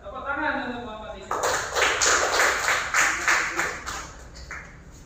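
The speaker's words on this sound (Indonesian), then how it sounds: "Tepuk tangan untuk kelompok 3" After a brief spoken line, a classroom of fourth-grade children bursts into clapping for a student group's ice-melting experiment, lively and fairly close, gradually thinning out toward the end.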